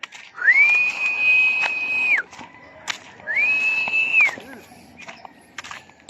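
Two long, steady whistle blasts, each around two seconds, sound close and clear outdoors, with faint movement noises between them.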